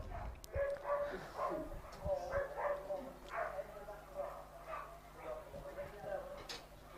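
A large dog barking repeatedly while running an agility course at an indoor international agility festival, with rhythmic yips and barks under a commentator's voice.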